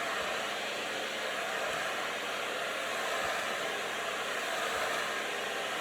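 A hair dryer roars in a steady, loud, close stream of air with no pauses while hair is blow-dried straight with a brush for a blunt cut. A few faint soft knocks come from the brush.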